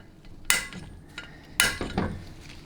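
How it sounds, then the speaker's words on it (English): A hammer strikes a center punch on metal, marking a spot before drilling on a 4L80E transmission part: two sharp metallic taps about a second apart, each followed by lighter ringing clinks, close and fairly quiet. "just punch it a bunch of times just to get started"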